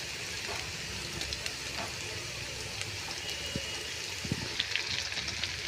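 Chopped onions and green chillies frying in a pan, a soft, steady sizzle with faint crackles and occasional stirring clinks, fairly quiet and close.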